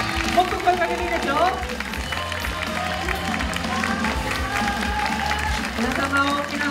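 An audience at the opening-day stage greeting for the Japanese film Cinderella Game claps steadily and densely throughout, a continuous wash of applause with a voice and music carrying over it.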